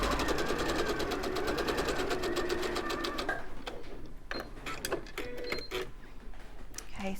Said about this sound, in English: I'm now switched it round and I'm sewing the other side of the diagonal line